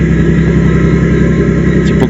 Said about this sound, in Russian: огромный пассажирский катер.